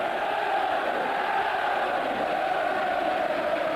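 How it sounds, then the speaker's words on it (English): Football stadium crowd at a Premier League Leeds match, a dense, continuous roar of cheering and chanting spread across the stands, steady and loud with no commentary over it. "Well, the crowd are trying to lift their team."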